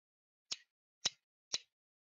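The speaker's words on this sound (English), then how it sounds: "That's scissors." Three crisp, short snips of scissors come evenly spaced about half a second apart, quiet and close, with silence between them and no talking.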